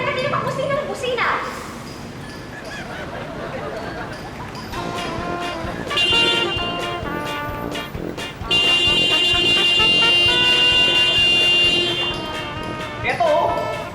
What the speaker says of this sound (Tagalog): hulihin mo na nga yung kanina pang busina ng busina